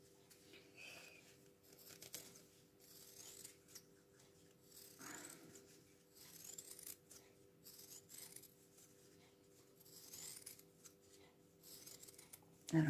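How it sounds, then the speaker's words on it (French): Scissors snipping through card while making a birthday card, a close series of soft rasping cuts and rustles in irregular bursts with brief pauses, ending in a louder knock. "Je vais venir découper ici."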